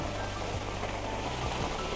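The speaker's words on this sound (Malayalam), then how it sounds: "കണ്ടോ, മഴ പെയ്യുകയാണ്." Steady rain pattering down on a surface, a dense continuous hiss with scattered drops, close by and fairly loud, no voices.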